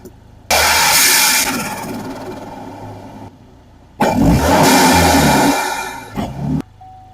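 A car engine, said to sound like a Hellcat, revs hard in two loud bursts, each dropping off as it shifts into the next gear, roughly second to third, with a quieter idle between.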